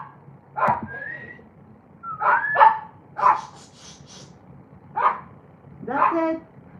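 Two pet dogs bark in short separate bursts, some sharp yips among them, fairly close by. A person talks faintly in the background between the barks.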